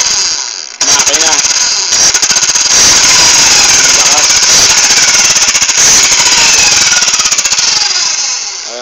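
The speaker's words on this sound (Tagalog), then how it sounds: "Ito po yung motor. Ayan po, nakita nyo umiikot" A scratch-built RC dragster's motor spins up after a brief pause and keeps running, a loud, steady, buzzing whine with a rapid rattling texture that holds for the rest of the clip, with no talk over it.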